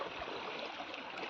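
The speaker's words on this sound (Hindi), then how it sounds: "यहाँ नाली में काफ़ी ज़्यादा पानी आ रहा है" Water rushes steadily through an open drain in a hillside village, a continuous, even, broadband gush heard fairly close with no voices.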